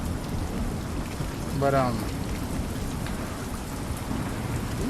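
Video game rain falls steadily as a dense hiss throughout, with a low thunder rumble underneath, while a voice speaks briefly in the middle.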